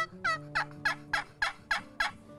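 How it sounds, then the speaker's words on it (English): A wooden turkey box call is stroked to produce a series of about seven evenly spaced, raspy yelps, loud and close with no talking. "This is a box call."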